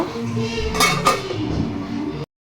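A metal lid is set down over a cooking pan, two bright clanks in quick succession over a low kitchen hum, close by, then the sound cuts off.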